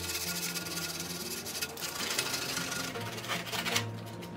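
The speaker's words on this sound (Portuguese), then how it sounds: "Inclusive essa parte aqui, ó, a gente vai lixar, tá?" Sanding paper rubs back and forth over the cut ends of a PVC pipe, a steady close raspy scraping that runs continuously without pause.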